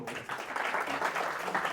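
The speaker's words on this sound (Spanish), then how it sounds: "un aplauso muy fuerte para él, por favor" A conference audience at a talk on artificial intelligence in industry breaks into applause, a brief dense burst of many hands clapping together, steady and fairly close throughout.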